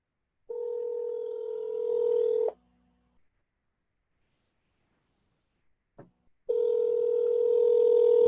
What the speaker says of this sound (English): Let's see if Queen will answer that phone